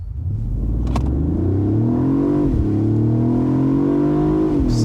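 A 2024 Mercedes-Benz CLE 450 convertible launches at full throttle, its engine rumbling and climbing steadily in pitch through a couple of shifts, loud and close with no talking.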